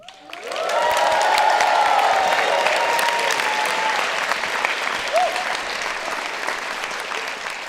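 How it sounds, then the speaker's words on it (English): A graduation audience for the School of Health and Society applauds and cheers the graduates, a loud, sustained wash of clapping with shouts and whoops rising over it, holding steady for several seconds. "So a big cheer for all the graduates who are here now."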